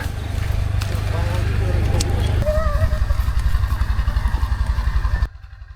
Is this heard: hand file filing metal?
no